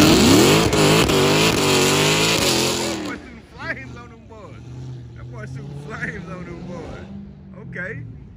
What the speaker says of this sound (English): He's gonna do something. A little slight little burnout.